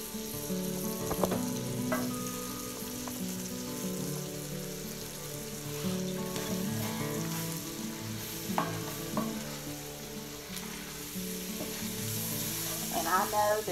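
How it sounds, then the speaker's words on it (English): Flour cooks with sausage in a frying pan for gravy, sizzling and crackling steadily up close, with scraping stirs of a utensil against the pan throughout. "Get the flour cooked a little bit so it doesn't taste like raw flour."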